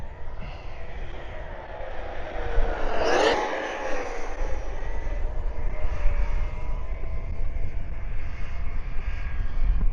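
A Redcat Valkyrie RC car running on a 6S battery screams at full throttle, a whining motor sweep rising sharply around three seconds over steady broadband roar, loud and close throughout.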